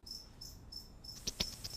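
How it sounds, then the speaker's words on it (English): A tenrec rubbing its quills together makes a steady high-pitched chirring buzz that pulses on and off, joined near the end by a few sharper clicks close by. "quills that they can rub together and make those little clicking noises"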